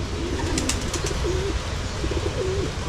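Pigeons coo softly in a series of low, rolling calls, with a brief chirp or two over steady background noise outdoors.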